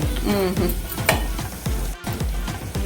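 Curry frying in a pan while being stirred, with a steady sizzle under repeated scraping strokes of a spoon against the pan, close and fairly loud, with no talk.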